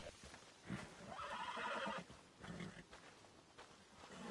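A horse on a plantation gives a faint, distant whinny while hooves clop intermittently, heard quietly with no talking.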